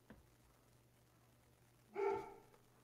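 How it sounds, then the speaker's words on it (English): Dogs bark somewhere away from the recorder, heard here as one short, faint, distant bark against a quiet room hum. "Dogs are barking at something."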